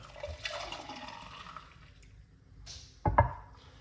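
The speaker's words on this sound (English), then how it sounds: "let's pour it out to see what's going on." Homemade lemon, pineapple, ginger and beetroot juice poured from a cup: a faint, soft liquid trickle, then a brief louder splashing burst near the end.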